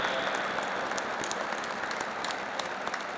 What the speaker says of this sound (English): a big round of applause and a standing ovation to Revered Professor Dr. Vishwanath Karat sir and Venerable Bhikkhu Sanghasena ji